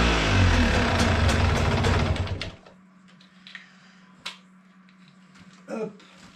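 A Yamaha 125 DTR motorcycle started without choke on a mild day: a loud, dense burst of engine noise for about two seconds, then a sharp drop to a faint low hum with a few scattered clicks and knocks.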